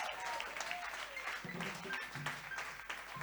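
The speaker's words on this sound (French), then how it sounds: "If you want to clap, clap to the Si vous Jesus." Church audience at a year-end seminar clapping for Jesus, moderately distant and soft, an uneven patter of hands with voices murmuring underneath.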